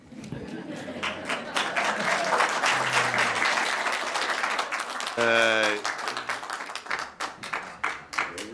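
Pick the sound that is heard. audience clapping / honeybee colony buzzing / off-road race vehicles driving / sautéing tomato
audience clapping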